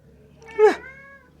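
A single cat gives a short, clear meow inside a feed and seed store, one rising-falling call in an otherwise quiet room.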